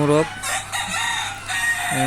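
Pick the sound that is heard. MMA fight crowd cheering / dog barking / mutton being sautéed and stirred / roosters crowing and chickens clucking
roosters crowing and chickens clucking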